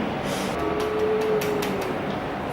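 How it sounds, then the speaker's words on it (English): A train passes outside, heard through an open door into a kitchen as a steady, distant rumble with a faint drawn-out whine, alone without talk. "I realized you guys can hear the trains"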